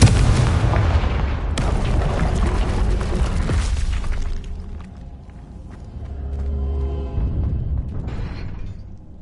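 Confringo fire spells blasting in Hogwarts Legacy: a loud booming explosion with rumbling debris opens, a second heavy blast follows around a second and a half in, then a rumbling tail and a later, smaller burst.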